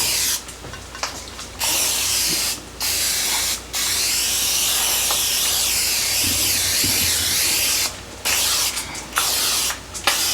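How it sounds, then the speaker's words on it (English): Cooking spray hisses from a can into a 4.8-quart casserole pan in several long, loud bursts separated by short pauses, with a few quick spritzes near the end and no talking. "give it a good spray on all sides and the bottom"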